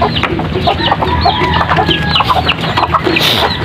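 Chinese chickens at a backyard feeding spot cluck steadily and overlap one another close by, with busy fowl chatter filling the whole stretch and no talk.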